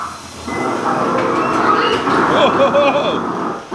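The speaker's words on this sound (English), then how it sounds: "Station control, we have a train on our track and it's coming at us." Ride train rumbling toward the car on the Earthquake The Ride track in Gatlinburg, a steady mechanical roar with squealing metallic tones rising midway, under an announcer's voice.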